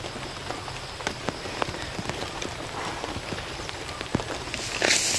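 Steady rain patters on a surface outdoors during banana heart gathering, with scattered louder drops and taps, a constant wash of noise close by.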